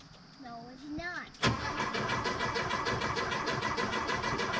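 A Porsche 914 being started for the first time in years bursts in abruptly after a brief wavering vocal tone, then settles into a loud, close, steady pulsing churn of the engine turning over.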